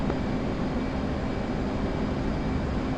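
Fighter jet engines in the DCS flight simulator throttling back while leveling off at altitude, a steady broad low roar with no distinct change, heard alone without talk.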